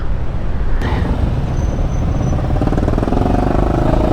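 Dense, slow road traffic of motorcycles and cars on a sunny street in the Philippines, a continuous loud engine rumble close by with a brief high squeal near the start.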